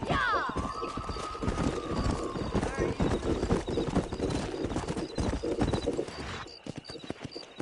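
A horse gallops with rapid, rhythmic hoofbeats across open ground in the Western video game Red Dead Redemption, close and loud, with a brief whinny near the start and game music and voices layered underneath.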